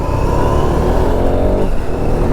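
Triumph Tiger 900 motorcycles riding off together, a loud close engine roar that holds steady and then drops slightly as the bikes pull away.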